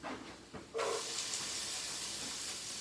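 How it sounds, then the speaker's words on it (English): Green onions hitting a splash of hot oil in a pan set off a soft steady sizzle and hiss, preceded by a couple of light knocks. "just a splash of oil going, and we'll get these green onions moving"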